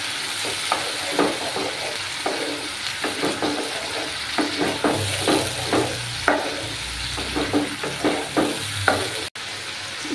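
Brinjal with turmeric powder being stir-fried in a pan: a steady sizzle runs throughout, broken by repeated close spatula scrapes and stirs.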